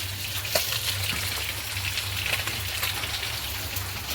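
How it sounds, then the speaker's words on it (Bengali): Bhola fish fry in hot oil with a dense, steady crackling sizzle that holds evenly throughout, close and without talk. "বন্ধুরা মাছ ভাজা হচ্ছে আমাদের"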